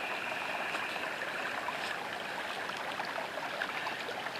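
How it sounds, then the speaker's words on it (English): Stream water runs at the source of the Nepean River, a steady, continuous rush and trickle of flow with no voices over it. "And we follow the water, and it comes down here"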